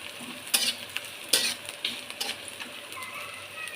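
Sweet pumpkin sizzles in a frying pan while a utensil stirs it, giving several sharp scraping strokes at irregular intervals over a soft, steady sizzle, close up.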